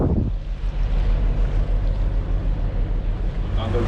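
Sailboat motoring under engine out of La Palma past anchored cargo ships, a loud, steady low engine rumble mixed with wind buffeting on the microphone, close and continuous, with no clear speech.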